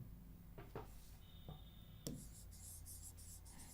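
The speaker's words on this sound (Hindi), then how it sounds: "ब्लैक से लिखती हूँ" A black marker squeaks and scratches across a board in short strokes, a few quick taps followed by a longer squeaky line and more scribbling, close and fairly quiet with no talking.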